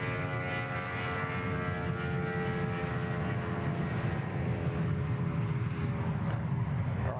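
Aircraft at Sydney Airport during plane spotting, with A380s among the traffic: a loud, steady, broad engine roar with a tonal whine that holds throughout, close and continuous with no talk.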